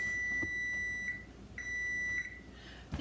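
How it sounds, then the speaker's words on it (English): Two long electronic beeps from a kitchen timer, each lasting about a second with a short gap between them, sounding alone in a quiet kitchen during mushroom canning. "my timer's about to go off"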